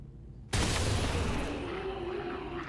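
In the XCOM 2 video game, a gunshot aimed at a brute enemy erupts suddenly as one loud, broad blast that fades into a long, rumbling decay.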